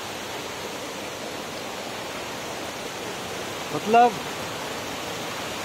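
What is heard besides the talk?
hidden waterfall in Bagar, Pangoot, Nainital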